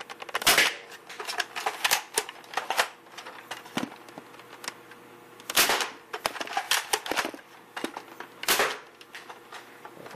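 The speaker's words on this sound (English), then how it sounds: "this is a firing test for the So Dizzle Breech Longshot" A modified Nerf Longshot blaster with a CPVC breech being worked and fired: repeated sharp clacks, snaps and mechanical clatter from priming and shooting, close and dry, in irregular bursts with no talking.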